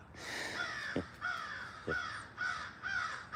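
Crows caw loudly in a repeated series of harsh calls outdoors, several close together, with no talk over them.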